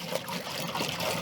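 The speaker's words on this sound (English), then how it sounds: "So I'm going to go ahead and get this water in here." Water is poured into a pot to start bee fondant from sugar and water, heard as a brief, fairly quiet trickling splash nearby.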